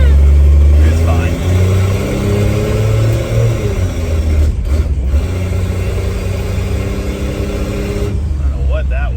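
A boosted 1963 Plymouth Valiant engine fed through a Carter BBD carburetor, running rich, revs up loud and close, droning steadily with rising and falling pitch sweeps and a short dip partway through.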